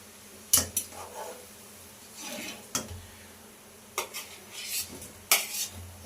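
Chopped tomatoes, onions, potatoes and green chillies going into a cooking pan, several sharp metallic clanks and utensil scrapes spaced apart over a faint low background.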